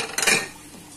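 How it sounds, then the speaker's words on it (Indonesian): Spoon scraping and clinking briefly in a bowl while a seasoned tofu and vegetable mixture with salt, pepper, coriander and chili is stirred, a short close burst that fades quickly. "Nah, ini bisa kita aduk rata ya teman-teman."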